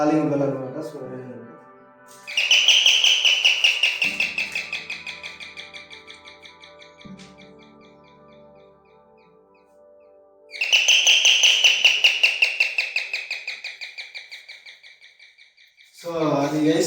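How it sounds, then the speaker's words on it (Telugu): An electric calling bell in a house plays a bird-chirp tone: two long bursts of bright warbling tweets, each fading gradually, with brief talk before and after. "ఏంటంటే ఇది బెల్ పక్షి మాదిరి."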